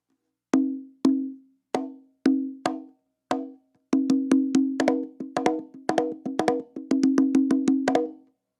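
Conga drum recorded through a dynamic microphone a couple of inches off the head, a few spaced single hits at first, then a quicker rhythmic pattern of tones and slaps, resonant and clear, no voices.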